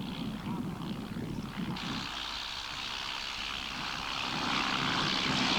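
Propeller aircraft taking off at a 1984 air show in Masterton, New Zealand, in a strong crosswind: a steady, fairly distant engine drone with wind noise that grows slightly louder toward the end.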